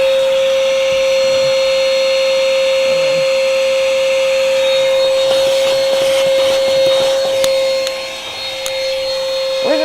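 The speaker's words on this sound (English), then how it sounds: "you guys just basically watch me vacuum" A vacuum cleaner runs steadily and loudly during car cleaning at a car wash, a constant whine with a strong tone, shifting briefly near the end as the nozzle moves.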